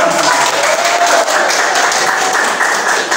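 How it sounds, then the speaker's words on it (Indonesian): Audience applause fills a classroom in a steady, dense wash of clapping that stays loud and even throughout, with a faint voice mixed in. "Kita berikan aplaus kepada Adam."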